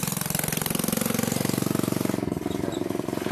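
A motorcycle engine idling close by outside a gated rest house, a steady rapid chugging pulse that holds throughout with no voices.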